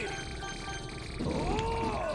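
A cat meows within Castle Shikigami 2 gameplay, heard over steady game music and effects, with a drawn-out meow near the end that rises and falls.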